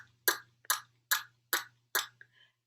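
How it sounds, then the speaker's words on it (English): A person clucks the tongue against the roof of the mouth with the mouth open, giving five sharp, hollow pops in a steady rhythm, close and fairly quiet, followed by a faint softer click. "you're going to cluck your tongue to the top of your mouth"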